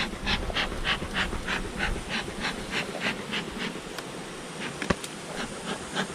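Honeybees buzz densely in an open hive during fall honey collection, a steady close hum with rhythmic pulsing bursts and a sharp tap near the end, no talking.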